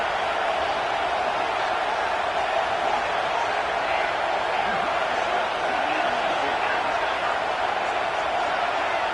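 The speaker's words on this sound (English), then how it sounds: "Listen to this crowd just shaking the girders of this place trying to help their defense." Dense stadium crowd roar at a college football game in Louisville, cheering on the defense, a steady loud wash of voices holding without break throughout.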